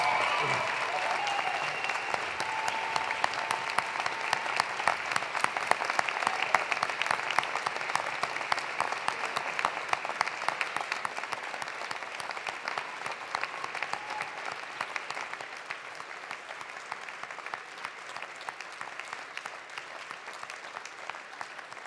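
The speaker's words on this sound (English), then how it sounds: "Give them a big round of applause." Graduation audience at a University of Alberta spring convocation applauding family members and spouses, a dense sustained wash of clapping from a large hall crowd that runs steadily for about twenty seconds and slowly thins toward the end.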